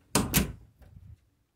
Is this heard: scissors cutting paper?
no